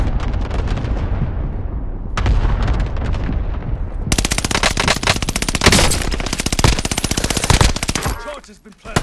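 A cluster airstrike in Call of Duty Modern Warfare pounds in rapid, heavy repeated blasts, loud and dense, building in intensity before cutting off, with a brief voice near the end.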